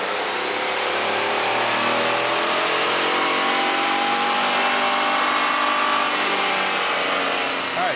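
Ford F150 EcoBoost truck engine revving hard on a dynamometer, one steady, loud pull with its pitch climbing throughout the run, heard alone without talk.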